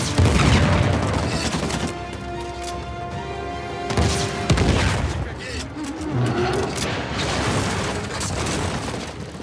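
Heavy gunfire and booming impacts from a firefight in the video game Uncharted 4, sustained and loud across the whole stretch, with bursts and crashes layered over constant background action.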